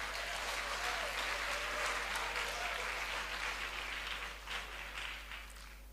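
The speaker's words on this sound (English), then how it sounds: "let us give a big hand applause to 4th-year cadets of the Police Academy." Steady audience applause for fourth-year police academy cadets at a bilingual school seminar, a dense, even wash of clapping that runs unbroken and fairly distant throughout.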